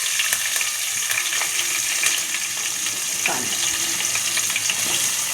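Ginger, garlic, green chili and onion fry in a pan with a loud, continuous close sizzle, a few stirring scrapes on top and no voices.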